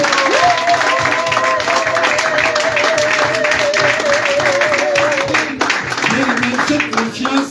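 A church congregation claps to acclaim the Lord, with a steady rhythmic applause under a sustained voice and crowd noise.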